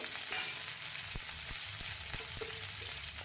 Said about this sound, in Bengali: আমি ফুলকপিটা ভেজে নেব